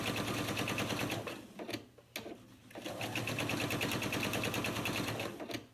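Close, loud sewing machine runs steadily while piecing log cabin quilt strips, with one short pause midway before the rapid stitching resumes.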